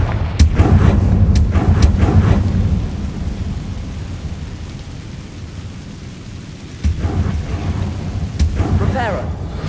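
Confringo fire spell exploding in the video game Hogwarts Legacy on PS5, a booming blast with a rumbling tail, with a voice calling out spells during it.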